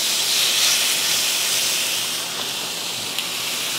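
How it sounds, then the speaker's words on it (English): Chicken thighs sizzle on a Ninja Woodfire outdoor grill, a loud, steady hiss that spreads evenly across the clip with no talking. "Our chicken thighs down. That sizzle, sizzle."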